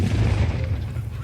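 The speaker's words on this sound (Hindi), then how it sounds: "ये जो धुएं का गुबार है या फिर जो आप देख पा रहे हैं बड़ा धमाका होता है" A controlled blast destroys a defused mortar shell in Akhnoor, Jammu. A loud, sustained low boom rolls and rumbles through the whole brief moment.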